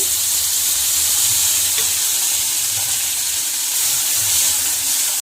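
Tomatoes sizzle steadily in a little hot oil for a tamarind-leaf chutney, a close, continuous crackling hiss with faint stirring and no voices.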